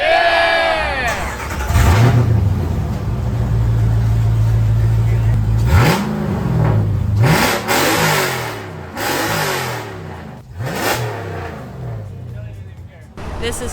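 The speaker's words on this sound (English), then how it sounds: "we just got a request to start the stepchild and rev it up" A Jeep engine at a large Jeep gathering fires up and revs repeatedly, rising and falling in pitch over several throttle blips, loud and close, with a crowd murmuring and voices in the background.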